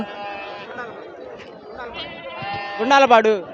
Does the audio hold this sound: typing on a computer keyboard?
no